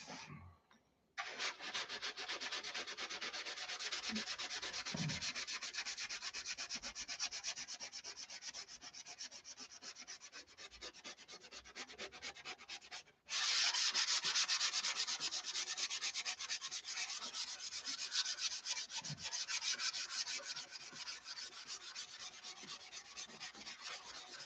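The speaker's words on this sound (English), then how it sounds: "You notice I'm not sanding this way. I'm sanding on a bias." Sandpaper rasping steadily across the wooden leading edge of a Tucker XL wing during repair, continuous close strokes with one brief pause before resuming slightly louder.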